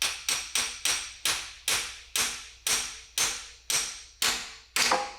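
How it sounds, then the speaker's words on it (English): A 16-ounce curved claw hammer strikes about eleven times in a steady rhythm during work on a donor Mustang, each sharp, close, loud impact ringing briefly before the next. "I'm down to my 16-ounce curved claw"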